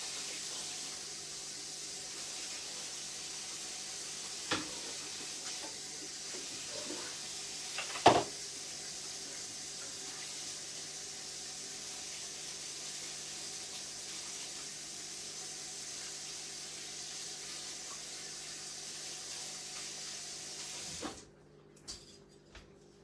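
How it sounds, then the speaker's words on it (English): A whisk rinsed under a running kitchen tap, a steady close water stream with a few faint clinks, ending abruptly as the water shuts off. "Let me wash this whisk real quick."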